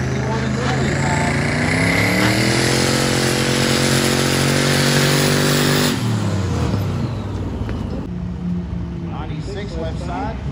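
Two-stroke open-class dirt drag racing engines rev loud and close at a Tipton dirt drag event, a sustained high-pitched rising wail that holds for about six seconds and then drops into a lower, rougher idle and burbling rumble.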